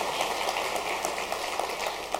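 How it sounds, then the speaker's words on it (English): Audience applauding event staff, a dense steady wash of many hands clapping at once, fairly loud and continuous with no voices over it. "Let's give them a round of applause."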